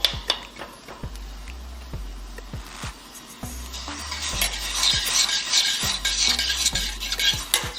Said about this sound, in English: I'm gonna give that a good mix and allow it to reduce by half to a syrupy texture.